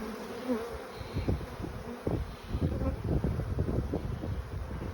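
Honeybees buzz steadily around an open, honey-filled beehive, a dense close swarm drone with light wind noise against the microphone.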